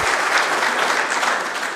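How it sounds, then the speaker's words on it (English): Audience applause fills the chambers at a county commission meeting in Sumner County, Tennessee, a steady, dense clapping held at an even level from start to finish with no voices over it. "let's refrain from applause and let everybody have a chance to speak"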